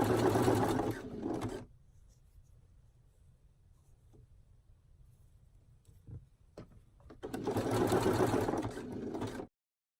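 Sewing machine stitching swimwear fabric for bikini bottoms, two loud steady bursts of running, one at the start and one near the end, separated by a quiet pause with a few small clicks.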